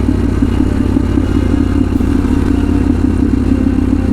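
A motorcycle climbs a very steep road, its engine running as a steady, loud, close drone with constant low rumble throughout, no speech.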